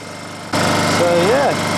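Honda EU20i inverter generator running on fresh fuel, a steady close engine hum that starts abruptly, with a brief voice-like pitch glide partway through.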